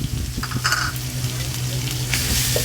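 Thai curry paste dry-roasting and frying in oil crackles and sizzles loudly and close, with stirring scrapes and clinks of a utensil over the steady hiss.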